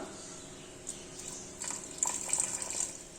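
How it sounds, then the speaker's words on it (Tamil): Water poured into a pan of chicken breast pieces for Sichuan bang bang chicken, a soft trickle that turns into brief, close splashing bursts over the last second or so against quiet kitchen hiss. "மறுபடியும் நம்ம கொஞ்சமா தண்ணி ஆட் பண்ணிக்கலாம்."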